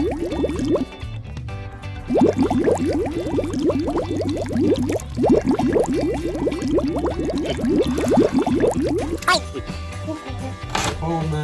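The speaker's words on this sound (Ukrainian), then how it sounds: "Сегодня мы наберем шарики водичкой и выбросим их на мороз." Balloons being filled with water from a running tap, giving a continuous gurgling, rising fill sound that is close and fairly loud, with voices talking over it.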